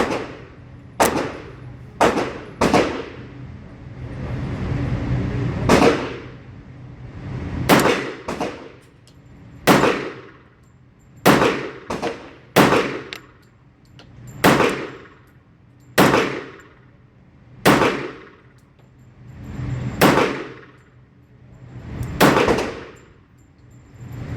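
A stainless steel Bul Armory SAS II Tac Commander .45 ACP pistol fires at a range, giving a steady string of loud, close single shots, each one a sharp crack with a short ringing tail, spaced about a second or two apart.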